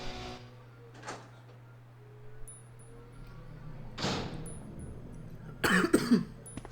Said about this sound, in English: Oh no, now I'm coughing.